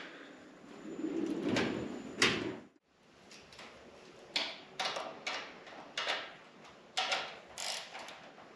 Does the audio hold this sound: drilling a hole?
no